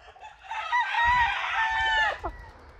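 An ash-grey cenizo fighting rooster crows once, a loud, close, drawn-out call with a short clucking tail at the end.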